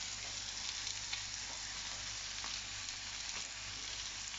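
Chopped onion sizzles and fries steadily in a pan with bay leaf, cumin and salt for an Indian-style cauliflower dish, a constant close crackle with no talking.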